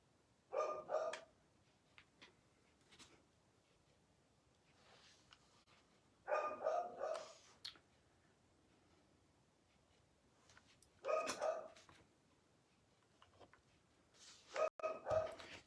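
A dog gives four short bursts of barking spaced several seconds apart, with faint whimpering yips between them. The barking is moderately distant in a quiet indoor room.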